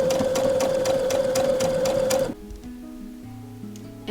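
Sewing machine running steadily as it stitches down the sides of a fabric curtain valance with a half-inch seam, a fast even whir with rhythmic needle ticks that stops abruptly partway, leaving quiet room tones.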